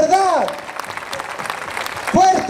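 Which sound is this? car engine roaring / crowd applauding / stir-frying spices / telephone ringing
crowd applauding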